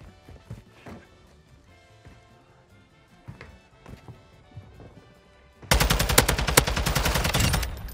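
Gunfire in the video game Modern Warfare 2 Warzone: scattered single shots and impacts, then a sudden loud burst of rapid automatic fire that rattles on for the final seconds.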